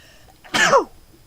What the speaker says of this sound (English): Just 1 second, I have a sneeze.